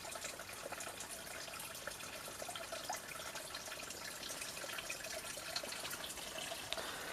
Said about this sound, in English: you can hear the water running now